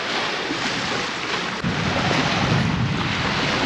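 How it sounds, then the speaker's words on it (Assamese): Wind roars steadily during a storm on the Brahmaputra river, buffeting a boat with a loud, continuous rush that swells slightly louder after a brief thump midway. "বতাহৰ গৰ্জন শুনি পাইছে।"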